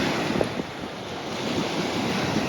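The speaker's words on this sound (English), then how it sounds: "the ocean is so pretty" Ocean waves on the coast of Oahu, Hawaii, a continuous wash of surf with wind buffeting the microphone, moderately loud and steady with no talking.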